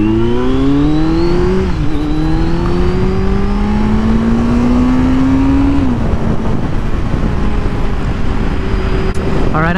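A 2020 Kawasaki Z900 motorcycle engine revs up strongly as it speeds along, pitch climbing, with one gear change and a long steady pull before easing off near the end, loud and close under road and wind noise.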